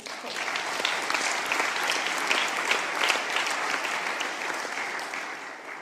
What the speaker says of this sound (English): let's clap one more time for the TMP people